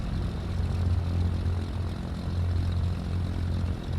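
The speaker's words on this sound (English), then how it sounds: "Cessna 310, taking off runway 34, left downwind departure out to the south" Twin propeller engines of a Cessna 310R in Flight Simulator 2020 drone steadily and loudly with a low, throbbing hum, heard close up and alone without speech.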